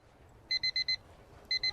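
An alarm clock rings in the morning with a repeated electronic beep, four quick pulses followed by a pause and then two more, sounding fairly loud and alone over a quiet room.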